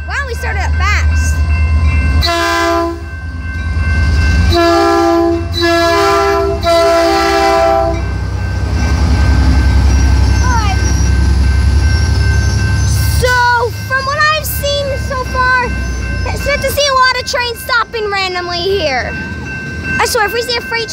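A Metrolink commuter train passes with several loud, sustained horn blasts over a heavy low rumble, followed by people talking excitedly near the microphone as the train noise continues.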